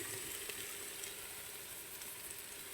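Filling sautéing in olive oil in a pan, a steady, even sizzle that fills the whole stretch at moderate level, with faint stirring scrapes underneath and no voices.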